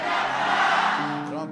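A church congregation at a Sunday celebration service shouts together, a loud, dense crowd roar that swells and then tapers, with a voice rising at the end.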